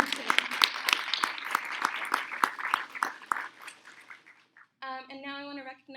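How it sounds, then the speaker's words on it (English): A small audience claps, with distinct individual claps for several seconds that taper off, followed by a voice speaking. "we'll just give them a round of applause"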